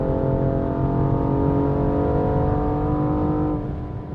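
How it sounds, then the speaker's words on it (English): A 2014 BMW M235i with a turbocharged inline-six accelerates under throttle, a smooth rising engine note heard from inside the car, loud and steady before easing off at the end. "But the best part of hitting the gas on this car is the sound. The turbo inline-6 just sounds awesome."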